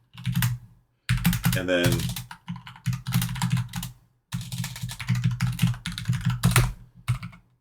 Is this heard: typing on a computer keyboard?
yes